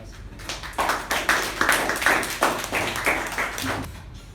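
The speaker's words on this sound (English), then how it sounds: "With a huge round of applause, please help me welcome Toastmasters" A small room of Toastmasters meeting attendees gives a steady round of applause, many overlapping hand claps rising quickly and holding for several seconds before fading, close and without speech.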